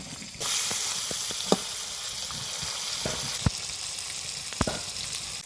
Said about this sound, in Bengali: কাতলা মাছের মাথাটা ভালো করে ভেজে নেব